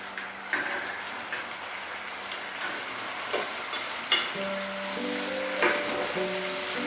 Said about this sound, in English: add the koftas to it